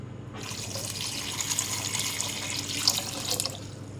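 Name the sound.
water poured into a pot of peeled potatoes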